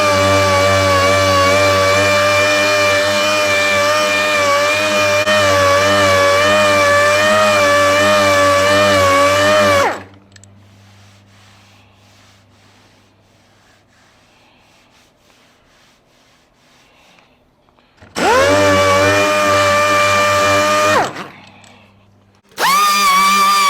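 A loud, high-pitched power grinder works on car body metal, whining steadily for several seconds, stopping, then revving up twice more in shorter bursts, close by.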